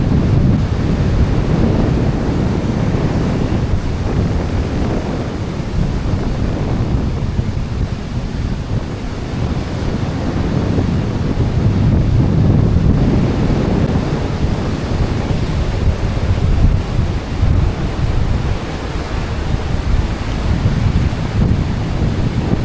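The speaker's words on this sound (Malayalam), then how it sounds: "എന്ത് ശക്തമായിട്ടുള്ള തിരമാലയാണ്" Strong sea waves roll and crash steadily onto the shore, mixed with heavy wind buffeting the microphone in a continuous, loud roar with no talking.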